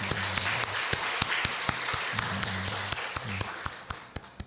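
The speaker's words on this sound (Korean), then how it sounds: "하나님께 영광의 박수를 올려드리겠습니다." A church congregation claps in a steady rhythmic beat during Sunday worship: sharp, quiet hand-claps repeat at a regular pace over soft, low background music.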